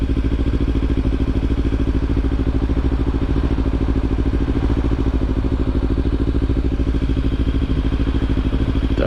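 A Kawasaki Ninja 300 motorcycle on the road, its engine a steady, close, pulsing drone that holds at a constant level throughout with no pauses.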